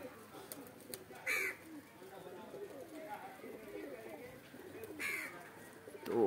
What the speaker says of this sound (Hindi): और ये सारे कबूतर उड़ रहे हैं, देख सकते हैं आप